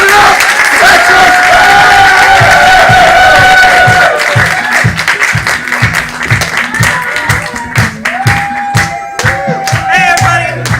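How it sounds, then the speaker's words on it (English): A theater audience's applause swells from light, sparse clapping into loud, dense clapping and cheering, with voices shouting at times. "So let's start with a little golf clap. And let's build it up."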